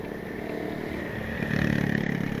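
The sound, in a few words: Kawasaki sports motorcycle passing by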